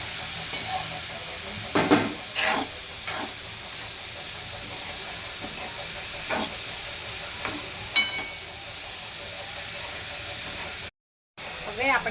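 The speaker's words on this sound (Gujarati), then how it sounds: "હવે આપણે તેને સાતળી દઈશું." Chopped vegetables for bhaji paratha stir-frying in a hot pan, a steady sizzle and hiss with occasional scraping stirs, close and continuous, with a brief dropout near the end.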